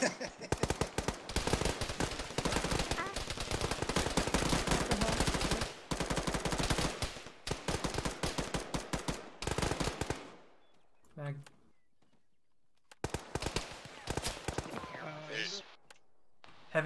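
Heavy machine gun fire in the military game Arma rattles in long, dense, loud bursts that break off near the middle, then returns in shorter volleys after a brief lull.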